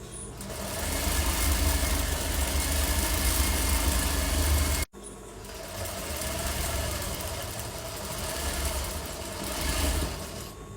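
A sewing machine stitches elastic channels into palazzo pants with a continuous, close, droning motor hum. It halts for a split second midway, then resumes its steady run.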